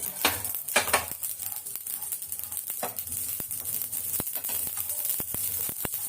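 Whole spices roast for homemade chilli powder in a dry kadai pan, a soft steady rustle and crackle with repeated sharp clicks and scrapes of a spatula stirring against the metal, close and fairly quiet.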